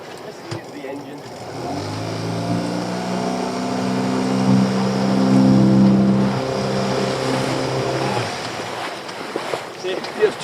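Inboard engine of a lobster fishing boat runs steadily at close range, a droning hum that swells slightly in the middle and then eases off near the end over wind and water noise.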